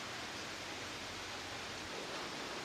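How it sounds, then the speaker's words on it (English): Steady rain falling outside during a quiet tea break before baking, a soft even hiss of droplets with no talking. "sit here and listen to the rain for a little longer"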